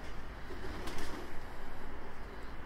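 Miro breed Altuni pigeons cooing inside a dim coop, soft repeated low throaty coos pulsing steadily against a constant noisy background hum, close by and fairly quiet.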